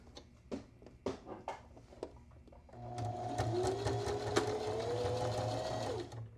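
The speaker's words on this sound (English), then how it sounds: "I think maybe I should just sew around the edges." Sewing machine stitching a jacket sample, a few short separate clicks and taps and then a steady close whirring run of about three seconds that stops abruptly.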